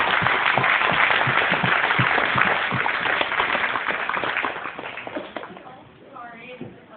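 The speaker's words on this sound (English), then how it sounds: "So if you will all join us in a round of applause for Ellie Brown." An audience at a new media launch party applauds artist Ellie Brown, a dense burst of clapping that gradually thins and fades, with a voice starting to speak as it dies away.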